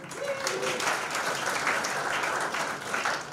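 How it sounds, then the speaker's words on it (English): A comedy show audience applauds for a few seconds, a steady wash of clapping with a brief voice at the start. "Give a round of applause"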